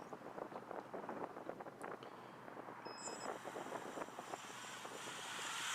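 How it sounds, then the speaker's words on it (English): Strong, gusty wind buffets the microphone outdoors on a cloudy day during a racing quad flight, a low rushing roar that swells and fades in uneven waves. "There are lots of clouds around and an awful lot of high wind."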